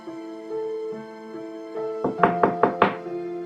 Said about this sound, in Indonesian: Bunyi pintu depan diketuk seseorang.